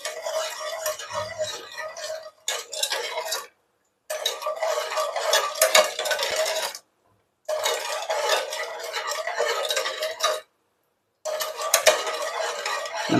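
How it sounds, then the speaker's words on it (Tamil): A spoon stirs sugar into water in a pot to dissolve it for a sweet, giving a continuous scraping, clinking swirl in four bursts separated by brief silences, close and clear. "சுகரை வந்து நல்லா கரைச்சி எடுத்துக்கலாம்."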